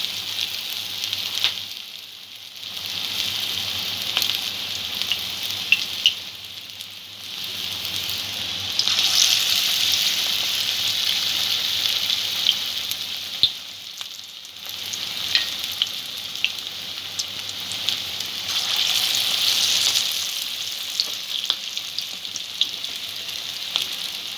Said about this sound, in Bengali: তিনটে চারটে করে একসাথে ভেজে নেব